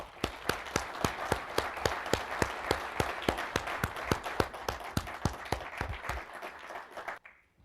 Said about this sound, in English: give a big round of applause for all the people